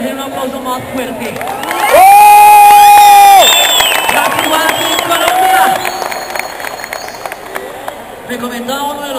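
A crowd cheers, whoops and applauds for a group of performers at a live event, a loud sustained roar with a held shout rising over it, then steady clapping and chatter continuing until the end.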